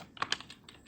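Computer keyboard typed while writing styling code for a Bootstrap 4 contact page, heard as a short run of quick, close key clicks of varying loudness lasting under a second.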